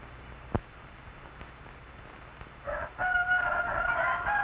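After a quiet start with a single knock, chickens break into loud, drawn-out clucking calls that continue to the end.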